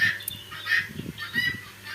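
Laying hens on a small home poultry farm give a series of loud, nasal, honk-like calls in quick succession, close by with little background.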